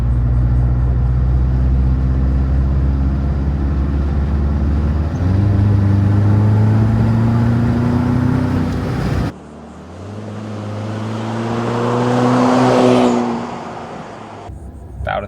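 A 2024 Toyota Tacoma with a 4-cylinder engine and MagnaFlow exhaust drones loudly and climbs in pitch under full-throttle acceleration, then after a break surges again through a rising rev sweep, close and forceful with no talking.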